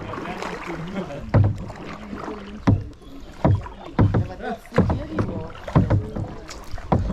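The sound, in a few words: kayak paddling and water splashing on the Spreewald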